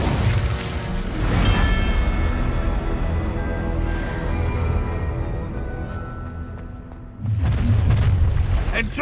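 Heavy booming spell blasts from the video game Hogwarts Legacy rumble loudly in a dense burst, fade for a moment, then hit again with another deep impact near the end.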